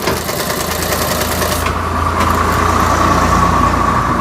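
A sewing machine stitches a child's fabric face mask, a loud, continuous mechanical whirring hum that holds steady and grows slightly stronger partway through.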